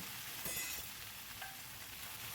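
Whole cumin seeds and a dried red chili tempering in hot oil, a faint, even crackling sizzle with a couple of soft stirring touches, heard close and alone.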